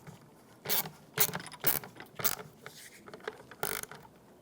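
A ratchet fitted with a 1/4-inch socket turns a bolt on a 1992-1996 Ford F-150 fuel pump, giving several short bursts of crisp clicking at an irregular pace, fairly close and with no talk.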